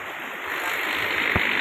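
Water flows strongly through a nala channel near a temple, a steady broadband rush that swells slightly partway through, with a brief low thump near the end and no voices.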